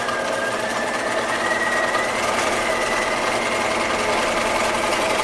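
A sewing machine stitches around the hem of a pajama pant leg, a steady, close, rapid mechanical whirr and needle clatter running continuously with no talking.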